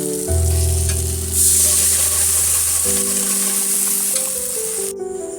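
Boiled peas and potato are tipped into a pan of spice paste for vegetarian ghugni, setting off a loud, close, steady sizzle with some stirring, while a low hum runs underneath.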